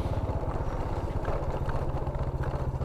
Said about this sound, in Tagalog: Parang motorcycle din ito, single motor.